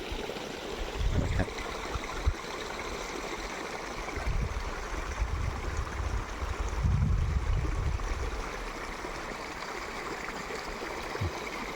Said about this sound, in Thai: ลงวาก็จะลุยน้ำแบบนี้อ่ะ ลองลุยน้ำเปียกหมดแบบนี้นะ